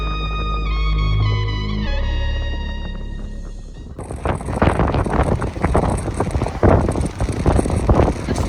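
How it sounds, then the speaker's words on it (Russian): Strong, gusty wind at the Black Sea shore near Lebedevka roars and buffets the microphone in loud, uneven bursts, following a short stretch of music at the start. "Ветрюган страшный"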